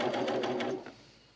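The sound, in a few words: overlocker sewing lace on leggings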